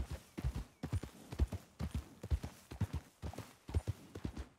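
Horse hooves clip-clop at a steady walking rhythm in a ranch roleplay video game, close and distinct, repeating through the whole stretch with no talk over them.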